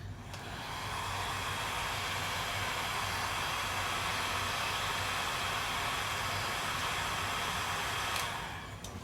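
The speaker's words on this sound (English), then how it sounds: "And I can set it with my heat gun." A heat gun blows steadily for about nine seconds to set wood glue on a flexible wood moulding, a loud continuous rushing hiss that starts and stops abruptly.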